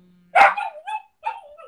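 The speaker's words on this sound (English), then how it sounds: "the dog is very, very, very noisy" A dog gives one sharp, close bark followed by a couple of shorter whining yelps in a quiet setting.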